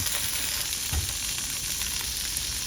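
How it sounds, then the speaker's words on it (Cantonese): Pieces of food sizzle steadily in a hot pan in a rural mountain village kitchen, a continuous close crackling hiss with no talking. "可以煎到嚿先就得啦，呢啲差唔多好嘅，側邊放多兩嚿啦，慢慢烘"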